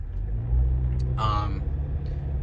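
A car rolls past nearby with a low rumbling engine drone that swells briefly in the middle and then fades, with steady road noise throughout.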